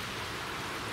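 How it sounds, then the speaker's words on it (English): Heavy rain lashes down outdoors at a pond during a carp fishing session, a dense, even hiss of steady downpour that fills the whole moment without pause or voices. "Friday turns up and we're here and it's absolutely lashing it down."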